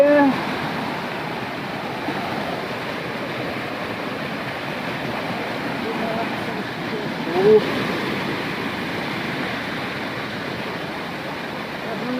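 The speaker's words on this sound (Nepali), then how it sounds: "यताबाट एउटा खोला आउँछ यस्तो झर्ना छ त्यहाँ" A stream and waterfall flowing outdoors, heard as a dense, steady rushing roar that continues without a break, loud and close, with a brief knock partway through.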